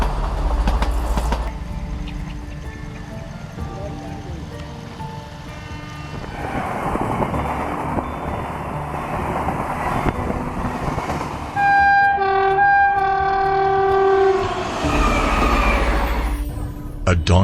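A train rumbles past on the tracks, a loud sustained roar with rattling cars and a drawn-out horn blast rising near the end, while a voice talks over it.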